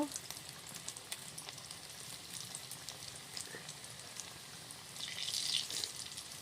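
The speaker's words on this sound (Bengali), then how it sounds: "হালকা আঁচে আস্তে আস্তে ভেজে নেব।" An egg sandwich fries slowly in oil over low heat, giving a soft, steady crackle with scattered pops and a slightly louder bubbling burst near the end, all quiet and close.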